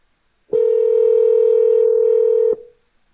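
A phone call ringing out, heard as one steady loud electronic tone lasting about two seconds, then cutting off to silence.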